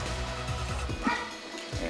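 A dog on a street in the Philippines, several short yipping barks, fairly close, with a whimpering note among them and no talk over them.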